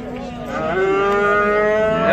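Bulls and cattle at a livestock market in Guliston, including Simmental cows, with one loud, close, drawn-out moo swelling over about two seconds.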